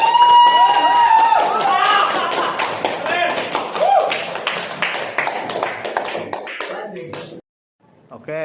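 Applause in a classroom, dense and close, with many hands clapping at once alongside excited children's voices and cheers. It drops into near silence for a moment at the very end.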